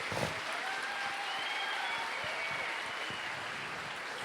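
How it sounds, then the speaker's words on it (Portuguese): A church congregation at a Pentecost service claps in sustained, even applause at moderate distance, with no voices above it. "Um aplauso para o Senhor, para o nosso Deus"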